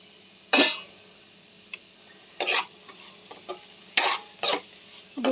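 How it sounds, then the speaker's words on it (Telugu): Beetroot pieces frying in a pan over low heat, a soft steady sizzle broken by several scraping stirs of a spoon, close and fairly quiet with no voices. "బీట్రూట్ని సిమ్లో పెట్టేసుకొని అయితే నేను ఈ విధంగా ఫ్రై చేసేసుకున్నాను"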